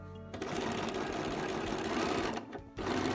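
A sewing machine stitches a seam on a spring coat at 5/8 inch, a close, steady mechanical whir with brief pauses as the stitching stops and restarts.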